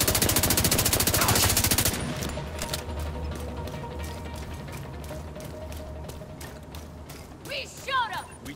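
Gunfire in the video game Tom Clancy's The Division 2: a rapid, loud automatic burst in the first two seconds, then sparser clicks and shots over a steady mechanical background, with brief voice fragments near the end.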